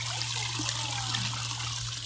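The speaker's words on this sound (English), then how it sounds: "We're visiting and listening to the water." Water trickles steadily in a small backyard pond, a continuous close wash of dribbling with a low steady hum underneath and no talking.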